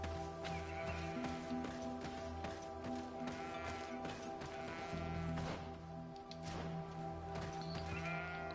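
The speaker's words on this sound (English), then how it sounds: "I hear a sheep, but I don't see a sheep" Sheep bleating in the video game GreedFall, several short wavering calls spread across a steady ambient drone of game background sound, fairly clear and close.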